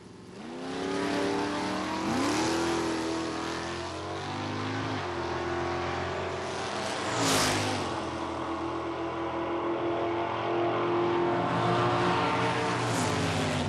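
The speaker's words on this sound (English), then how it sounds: "Doug Wright's 63 Dodge against Dick Kincaid and his 56 Chevy." A 1963 Dodge and a 1956 Chevy muscle car at a 1992 drag race, engines roaring loud and sustained, revving as gears shift, rising and falling over a steady rumble with no talking.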